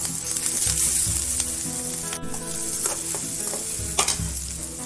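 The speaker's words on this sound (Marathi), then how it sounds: "तेल व्यवस्थित गरम झालं की त्यामध्ये आपण सुरुवातीला कांदा घालणार आहोत हिरव्या मिरच्या लसूण व्यवस्थित परतून घ्यायचं" Onion, green chilies and garlic sauté in hot oil for a Kolhapuri-style wild-greens dish, giving a continuous close sizzle broken by repeated scraping strokes of a spoon against the pan, with no voices.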